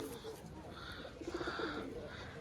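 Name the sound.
pigeons cooing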